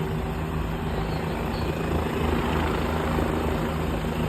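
Military helicopters of the JDF flying over at an air show opening ceremony, a loud continuous rotor and engine roar that holds steady throughout with no talk.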